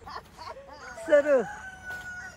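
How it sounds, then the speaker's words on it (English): A rooster crows and chickens cluck at a dairy farm where calves are being bottle-fed, the crow rising loud and close in the middle of the clip over soft background chatter. "Oh, the chicken."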